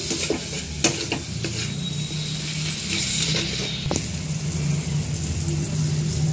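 Ground spices with salt, turmeric, chili and coriander sautéing in a pan, a steady sizzle with occasional sharp spoon knocks and scrapes close by.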